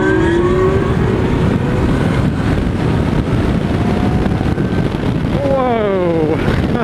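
A Zero S electric motorcycle rides at about 18 mph, heard as steady loud wind rush against the microphone with a rising, wavering motor whine, while a rider talks over it.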